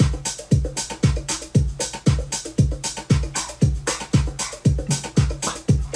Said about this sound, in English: So kick, shaker, bongos, hi hat,